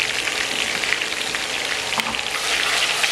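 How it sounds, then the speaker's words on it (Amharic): Spiced butter for Ethiopian niter kibbeh melting in a pan, giving a steady, loud sizzle and frying hiss that runs unbroken throughout, with a light stir near the middle and no talking. "አሁን ደግሞ ቅቤያችንን እናቀልጣለን።"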